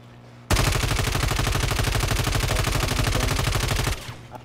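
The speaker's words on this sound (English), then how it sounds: "There's another guy shooting up there also." Shooter video game gunfire rips out as one continuous rapid automatic burst lasting several seconds. It is loud, close and steady, then stops abruptly with no talk over it.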